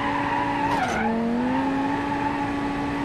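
A car skids sideways in the BeamNG.drive driving game, its tires squealing in a loud, gliding tone that bends downward and then holds steady over a constant engine drone, with no one talking.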